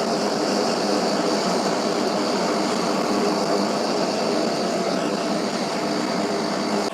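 A tractor pulling a finish mower cuts along the wooded edge of a large farm field, giving a loud, steady engine drone with broadband mower roar that holds unbroken and close throughout.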